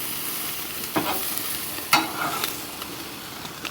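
Garlic lime chicken sizzles steadily over a grill fire, a close continuous hiss broken by a few sharp pops and scrapes as the meat is moved, with no talk.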